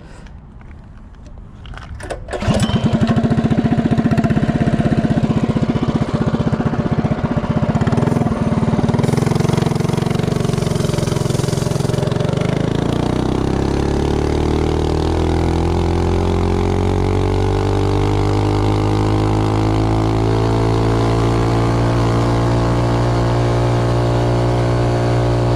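A Predator 212 Hemi small engine with a Tillotson stock cam and 22-pound valve springs revs up hard for a top speed run, a loud sustained drone whose pitch climbs steadily and then holds high, running alone without talk.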